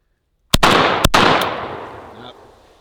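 Three sharp, loud shotgun blasts from a Panzer M4 firing double-aught buckshot after mud exposure, the first two close together and the third about half a second later, each with a long outdoor echo that fades out.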